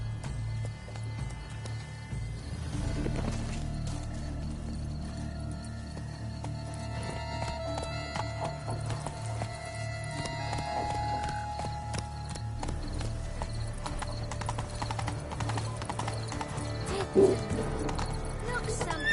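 Horse hooves clop in a continuous galloping rhythm in The Witcher 3, steady and fairly close throughout, with a faint whinny, game sounds and spoken voices layered over the hoofbeats.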